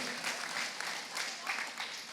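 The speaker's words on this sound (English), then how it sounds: "Oh, come on, really clap." Wedding guests clap during a toast, a faint, scattered round of applause with voices murmuring underneath.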